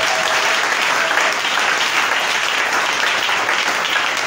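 Church congregation applauding steadily during a worship service, a dense, continuous wash of clapping that fills the whole stretch at even loudness with no talk over it.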